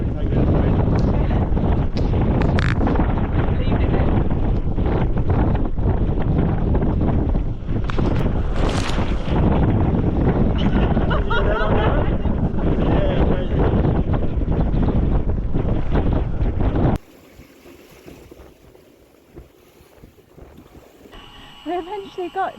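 Strong gusting wind roars across the microphone while sailing a small boat off Kawau Island in New Zealand, loud and continuous with buffeting bursts, then cutting abruptly to a much quieter calm near the end.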